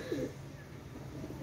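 A single short coo from Pakistani high-flying pigeons, Saki and Salara teddy birds, rises once near the start over a steady low background hum, then fades into quiet ambient noise.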